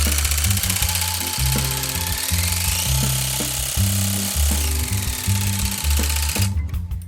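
A rug tufting gun runs loud and close with a rapid mechanical clatter and whirring hum, its pitch and pace shifting as the speed rises, before cutting off abruptly at the end.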